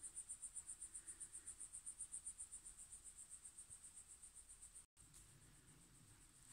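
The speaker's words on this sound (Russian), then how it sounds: "кузнечики стрекочут." Grasshoppers chirping on an August evening in a village, a fast, even pulsing trill, high-pitched and steady, faint and fairly close, running alone without speech until it cuts off near the end.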